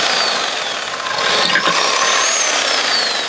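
Close, loud drill chewing through a hot pink baseball bat, a continuous gritty whirring grind that rises slightly midway with a brief scraping knock.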